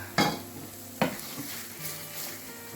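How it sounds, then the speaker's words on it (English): A ladle stirs vegan mushroom risotto in a pan, with two distinct scraping knocks over a soft, steady sizzle, heard close up. "Stir it around so it gets to the bottom."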